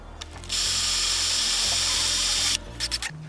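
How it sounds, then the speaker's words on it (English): A power drill whirs loudly for about two seconds, driving a screw through metal on a Sprinter van, preceded and followed by brief mechanical clicks and short bursts. "you're gonna try to drill your screw into that hole that you made earlier"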